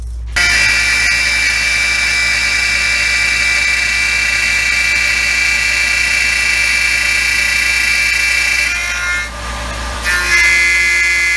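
A Tormach CNC mill cutting off bulk material, a loud, sustained high-pitched machining whine that holds steady for about nine seconds, briefly drops out, then resumes.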